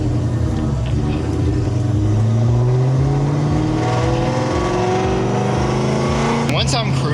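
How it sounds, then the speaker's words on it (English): A cammed, supercharged Terminator Cobra engine idling loudly, then revving to around 1500 rpm to let the clutch out, with a steady rumbling drone throughout and someone talking over it. "So I gotta rev it, as you'll probably see, to like 1500-ish"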